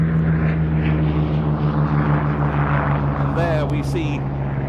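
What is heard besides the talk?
Hawker Hurricane aircraft taking off at air show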